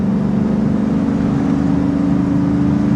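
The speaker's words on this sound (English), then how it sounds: "Listen at that motor, man." A pickup truck engine, a Dodge Ram SRT10 or Chevrolet Silverado SS, runs steadily while driving at speed, giving a continuous loud, even drone with a strong low hum and no talk.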